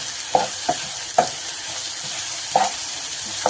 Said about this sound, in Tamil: நல்லா எண்ணெயிலே வதக்கிட்டு மிளகாத்தூள் போட்டு